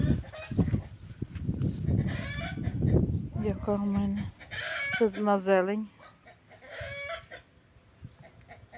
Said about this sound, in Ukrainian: Все, кури кричать.